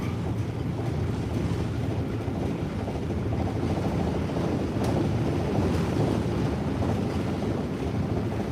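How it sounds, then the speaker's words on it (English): Strong wind blows across a boat on the Mississippi River, a steady, loud, broadband roar buffeting the microphone for the whole stretch, with rushing water beneath and no talking. "that wind's blowing"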